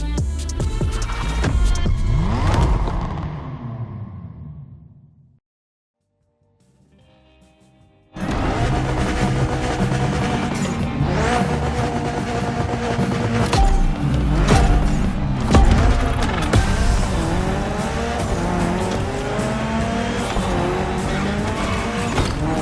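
A Mitsubishi Evo 9 in The Crew Motorfest gymkhana roars and revs hard with tire squeal, cuts to near silence for a few seconds, then returns loud with sustained engine howl and skidding.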